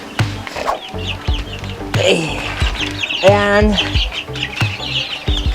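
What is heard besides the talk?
chickens clucking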